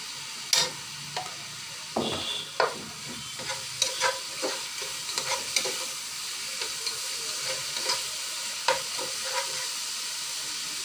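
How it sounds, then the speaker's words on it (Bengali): Coconut filling cooked with a spoon of ghee for steamed bhapa pitha, stirred in a pan: irregular spoon scrapes and taps over a steady soft sizzle, close and moderately loud, with no talking. "1 চা চামচ ঘি দিয়ে নেড়ে চেড়ে নামিয়ে নেব।"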